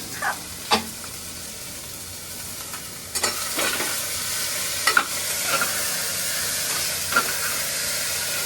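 A Marathi tempering (phodni) for village-style ghatya sizzles in a pan as it is stirred: a steady frying hiss broken by a few sharp scrapes and clinks of the spoon, with no voices.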